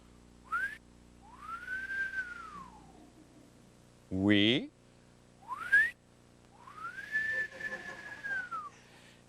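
A person whistles an admiring tune in several rising and sweeping phrases, separated by short pauses, with a brief spoken interjection between them, close and fairly quiet.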